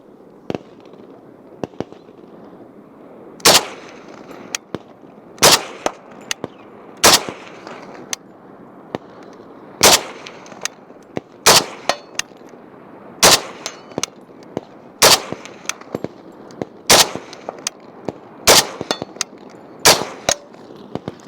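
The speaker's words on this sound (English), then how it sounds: "So I'm hitting steel downrange with it a little bit easier." A PSL rifle fires at steel targets downrange: about a dozen loud, sharp cracks at roughly one-and-a-half to two-second intervals, each followed by a brief ringing tail over quiet outdoor background.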